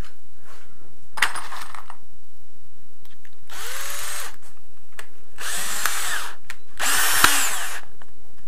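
Power screwdriver drives self-tapping screws into drywall on a metal stud frame: three loud, close whirring bursts of a few seconds each, separated by short pauses and a light click, with no talking.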